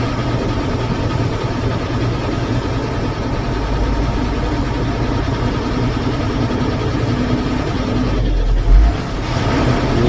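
An Ashok Leyland heavy vehicle's engine idles close by with a steady, loud, low rumble and a brief swell near the end.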